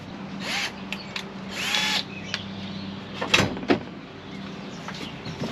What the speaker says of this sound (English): once you drill this, you're drilling the top part of the dash